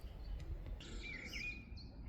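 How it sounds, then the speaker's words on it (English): A blackbird sings from a riverside spot, a brief fluting phrase rising clear above steady low outdoor rumble and wind, moderately distant and unaccompanied by speech. "Just pick out the blackbird singing."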